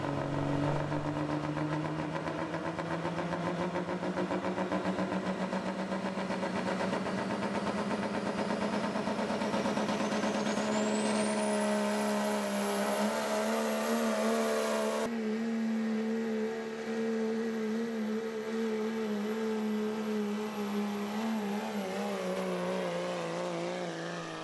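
A 1997 Dodge Hot Rod Diesel 4-wheel drive truck pulls a sled at a county fair. The engine roars loud and sustained, rising steadily in pitch as it revs and keeps a constant heavy drone throughout.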